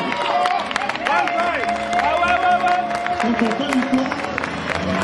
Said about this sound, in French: levez-vous et acclamez très fortement pour vous